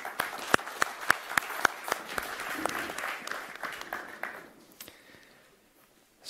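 Audience at a G20 conference session in Berlin applauding its speakers, a burst of hand claps with a few sharp loud claps up front that thins and fades out over several seconds, then near silence.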